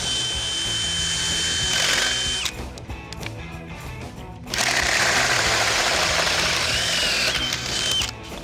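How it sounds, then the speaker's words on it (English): A power drill with a hole saw whines steadily at close range while cutting at a steep angle, its motor pitch shifting as it bites, easing briefly, then surging loud again. "Drilling at a steep angle."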